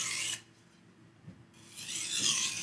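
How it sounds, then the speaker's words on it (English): Knife blade stroked across a sharpening stone to remove the burr, two short raspy scraping passes separated by a quiet gap, close and fairly soft. "Deburring, I'm really taking my time with"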